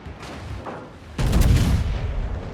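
Naval gunfire from a warship's full broadside in World of Warships, a loud heavy boom that hits suddenly after a quieter stretch of game ambience and rumbles on with a sustained roar.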